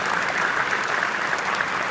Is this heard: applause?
yes